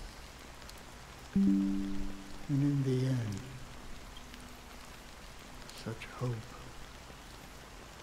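Steady black-rain drizzle in Honkai: Star Rail, a soft constant hiss running throughout while a voice speaks over it.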